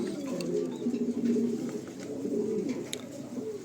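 Beauty Homer pigeons coo in steady, overlapping low murmurs from close by, a continuous warbling rumble with no speech.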